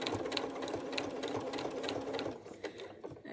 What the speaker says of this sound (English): I'm just going to sew across.